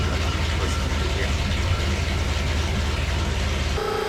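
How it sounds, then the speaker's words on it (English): A Ford FE V8 engine runs on a dyno with a steady, loud mechanical drone and a low rhythmic pulse throughout, with a brief change in tone near the end. "this is a Ford FE motor that I'm listening to here"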